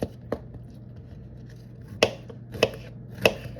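Squash cut into small pieces with a knife, sharp isolated chops on a board, one early, then three spaced strikes in the latter half, with quiet pauses between.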